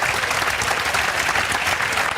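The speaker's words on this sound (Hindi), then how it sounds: "इनके लिए जोरदार तालियां बजा दो" A crowd gives hearty applause at a small celebration honoring a student who has landed a job, a loud, dense, unbroken roar of clapping hands heard nearby.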